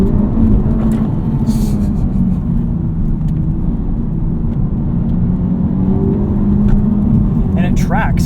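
A 2023 Honda Civic Type R accelerates hard under power with some steering lock, its engine a loud, continuous close-up roar and whir inside the cabin, with voices breaking in now and then.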